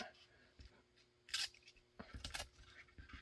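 Scissors cut a strap on a Safariland fork holster for a Sig P320, giving a few brief, faint snips and rubbing sounds at close range.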